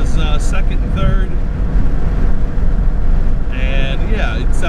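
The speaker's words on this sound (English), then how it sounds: "So that's the exhaust at wide open throttle." Chevrolet Corsa performance exhaust at wide open throttle through second and third gear, a loud, deep rumbling roar that holds steady throughout, with a person speaking over it.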